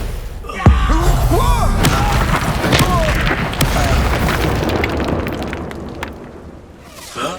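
A fiery Incendio spell blast from Hogwarts Legacy erupts in a sudden loud boom, followed by sustained crackling, rumbling combat noise and whooshing effects, with speech-like voices mixed in.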